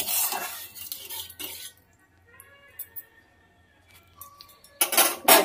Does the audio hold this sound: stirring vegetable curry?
yes